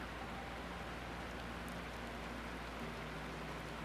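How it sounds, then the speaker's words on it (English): Gentle rain patters steadily on a wooden cabin roof, a soft, even wash of drops with a low steady hum beneath, unbroken and calm throughout. "The gentle patter of rain continued on the wooden roof above"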